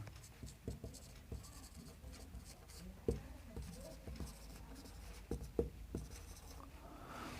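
Faint scratching and tapping of writing on a board during a quiet accounting lecture, with soft irregular strokes and a few sharper taps against a low room hiss.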